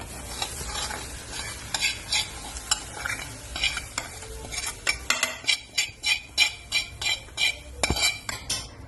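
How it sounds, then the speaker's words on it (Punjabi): A hot tadka tempering sizzles as it is poured into turnip saag, followed by steady scraping and clinking as a spoon stirs the pot, the strokes growing louder and more rhythmic toward the end. "ਹੁਣ ਆਪਾਂ ਇਹਦੇ ਵਿੱਚ ਐਡ ਕਰ ਦਿੰਦੇ ਆ ਤੜਕਾ"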